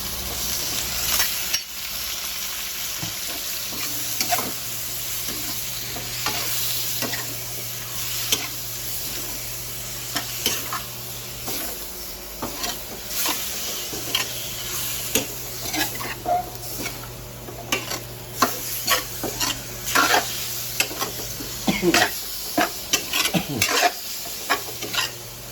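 Pork fries in a pan with a continuous sizzle while a utensil stirs and scrapes it in frequent irregular strokes, plus an occasional clatter of metal against the pan.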